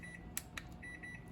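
A kitchen timer beeps while fudge cooks on the stove, giving a few faint, short electronic beeps in quick succession, some more distinct than others, over quiet kitchen background.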